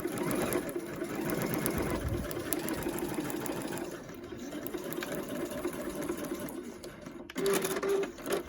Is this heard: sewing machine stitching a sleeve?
yes